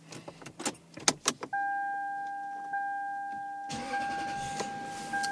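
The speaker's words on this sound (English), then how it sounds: "The engine, the way it starts." Inside a 2006 Lexus LS430, keys clink before a steady chime tone starts, then the engine cranks and catches near the end and settles into a faint, smooth idle.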